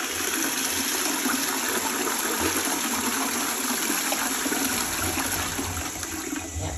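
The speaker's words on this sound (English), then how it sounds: "Toilet flush is fine." A toilet flushes with a loud, steady rush of water that runs continuously, close by, with no voices.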